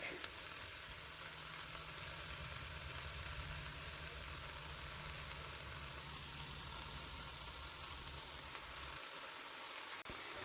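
Onions frying in a pan alongside bratwursts, a constant dense sizzle that stays even throughout, close up with no voices.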